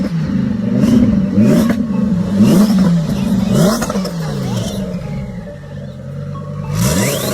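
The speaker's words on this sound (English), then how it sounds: "Sounds crazy when the V10 engine, then the turbo spool" A twin-turbocharged Lamborghini Huracan Performante V10 revving repeatedly, loud rising and falling engine blips with turbo spool and clatter, some of them close and sharp.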